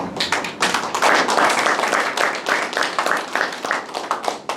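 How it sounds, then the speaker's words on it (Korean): A lecture audience claps loudly and steadily, dense and close applause filling the whole stretch without pause. "저보고 박수 치는 건 아니죠."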